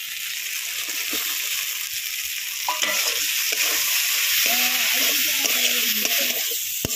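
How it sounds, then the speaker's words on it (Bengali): Fried potatoes go into spiced masala sizzling in a pan, a loud continuous hiss of frying with faint scraping and stirring beneath, close by and steady throughout. "মশলা কষানো হয়ে গেছে, এবার ভেজে রাখা আলু দিয়ে দেবো।"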